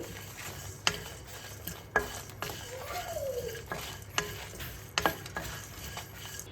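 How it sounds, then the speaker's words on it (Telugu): Dry coconut with cumin roasting in a pan on a low flame for Rayalaseema-style country chicken curry: soft scraping stir strokes with a few sharp spatula clicks against the pan, steady and fairly quiet. "ఎండు కొబ్బరి వేసేసుకుందాం ఇవి లో ఫ్లేమ్లోనే బాగా వేయించుకోవాలి"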